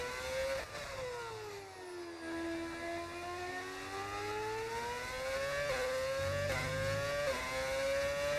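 A Formula 1 racing car engine in a video game, a steady loud whine that dips and climbs in pitch through gear changes, heard alone and close.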